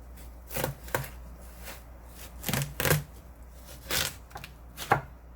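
A knife cuts through a halved watermelon with a series of crisp, separate chops and crunches at irregular intervals, close up and with no talk.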